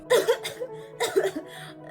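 Two or three short coughs in quick succession, then another brief burst after a pause, close and fairly clear.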